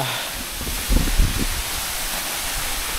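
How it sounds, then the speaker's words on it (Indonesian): Seloresi waterfall in Wonogiri, in the southern Lawu valley: a steady, dense hiss of falling water, close and unbroken, with a few low thumps near the start. "Wah, ini ya air terjun Selo Resi."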